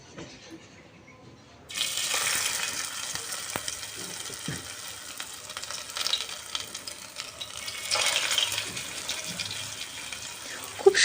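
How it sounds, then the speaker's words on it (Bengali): Drumstick flower pakoras fry in hot oil over a low flame, a steady close sizzle starting abruptly after a short quiet lead-in and swelling in bursts as they cook. "তারপরে হালকা আঁচে সবগুলোকে ভেজে নেব"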